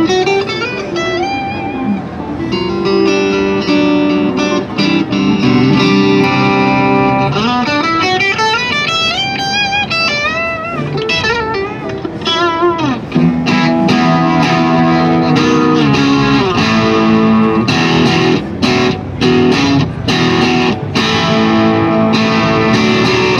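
An electric guitar runs through a Wampler Thirty Something boost pedal, loud and driven with distortion: strummed sustained chords alternate with quick single-note runs and bends, then choppy rhythmic stabs, with no talking.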